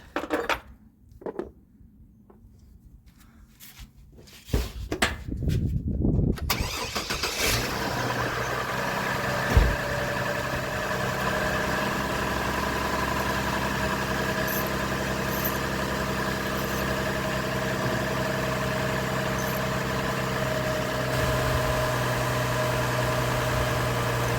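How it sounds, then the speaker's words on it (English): A Pontiac Grand Am GT with a swapped 3800 V6 engine cranks over after a few clattering handling sounds, catches and settles into a steady, fairly loud idle that drones on without a break. No one speaks. "So now I'll go ahead and start the truck."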